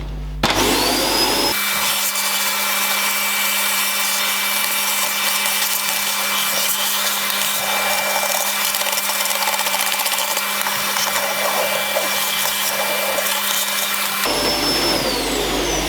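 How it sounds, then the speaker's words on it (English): A vacuum cleaner runs steadily while a vehicle's interior is hoovered out during rear spring fitment work, a loud continuous motor whine and airflow roar that switches on after a brief pause and cuts off near the end. "I'm going to go get the hoover out in here."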